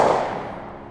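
A single sharp blast from a Smith & Wesson 10mm Performance Center pistol at a target range, loud and close, followed by a short reverberant decay that fades over about a second.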